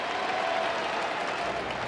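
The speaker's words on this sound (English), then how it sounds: "It was a standing ovation." A baseball crowd gives a standing ovation at a Cardinals–Rockies MLB game, steady applause and cheering that fills the whole stretch at a moderate, distant level with no clear voices on top.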